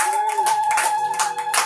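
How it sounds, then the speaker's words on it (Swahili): A church congregation at a morning prayer service claps in praise, giving a short run of rhythmic hand claps over a sustained musical tone. "Shangilie Bwana Yesu kwa makofi"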